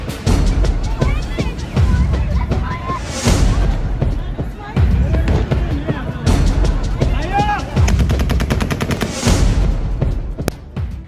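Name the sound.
gunfire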